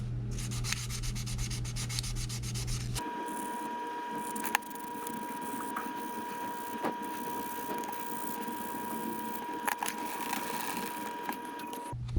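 Wet sanding a 1/24 Tamiya Porsche 911 Turbo '88 plastic model body with 1000 grit sandpaper, a steady soft rubbing scrape in straight back-and-forth strokes, close and continuous with a brief click midway.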